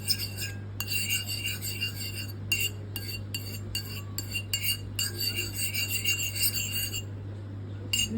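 A utensil stirs and scrapes oyster sauce with a matching amount of seasoning in a bowl for kolo mee, a steady close rasping and clinking with no talk.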